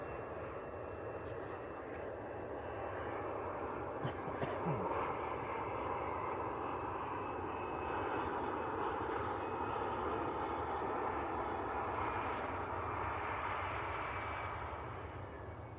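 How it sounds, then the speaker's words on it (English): A Loganair Embraer 145 jet on short final approach into Manchester Airport makes a steady, distant engine roar that swells slightly and holds throughout, with faint voices in the background. "Loganair, Embraer 145 on short finals"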